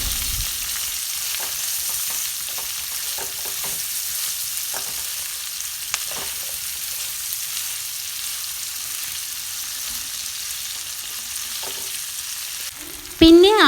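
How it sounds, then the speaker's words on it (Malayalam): Sliced onion and capsicum stir-fried for beef chilli: a quiet, steady sizzle with scattered spoon scrapes and clicks against the pan, rising to a louder burst at the very end, no speech. "പിന്നെ സവാള ക്യാപ്സിക്കം കട്ട് ചെയ്തത് ചേർത്ത് കൊടുക്കാം. ഒന്ന് മിക്സാക്കി കൊടുക്കണം കേട്ടോ."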